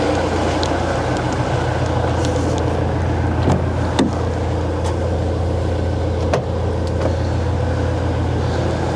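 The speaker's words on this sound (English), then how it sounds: "Turn the engine off, because it's very noisy for everybody." A motorhome's engine idles nearby as a constant low diesel-like rumble, steady and unbroken, with a few faint clicks and knocks over it.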